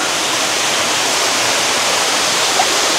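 A hidden waterfall at a resort in Baler roars as a loud, dense, unbroken rush of falling water that fills the whole moment, with no voices over it.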